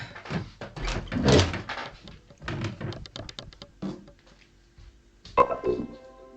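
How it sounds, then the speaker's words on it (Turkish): A door thuds shut indoors, a single solid knock-like impact late in the clip, following speech and movement sounds in a Turkish drama scene. "her seferinde kapıyı kim kapatıyor ya?"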